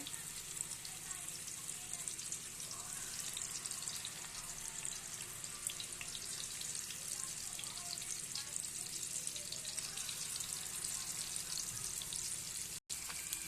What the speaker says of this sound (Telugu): ఫిష్ ముక్కలు వేసేసుకుంటున్నాను చిన్న చిన్న ముక్కలు కదండి బేగనే వేయిపోతాయి